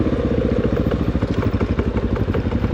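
Off-road motorcycle riding on the Hanthana trails in Sri Lanka, the engine loud and close with a steady throbbing, rattling drone and no pauses.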